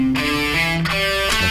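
An electric guitar plays a quick lick of repeated note groups moving across the strings, clear and close with crisp picked attacks.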